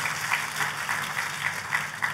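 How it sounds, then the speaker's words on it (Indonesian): Church congregation applauding during a sermon, a steady wash of many hands clapping at moderate distance throughout, with no speech over it. "Tepuk tangannya pula yang paling meriah buat Tuhan kita."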